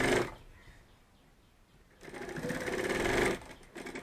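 Sewing machine stitching a bag handle: a short burst of motor whir at the start, a quiet pause, then a longer, louder steady run of rapid stitching close by, with no talk.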